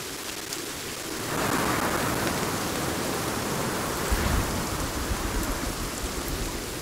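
Steady rain in the survival video game Sons of the Forest, a broad hissing wash that swells after the first second and holds evenly to the end, with no voices.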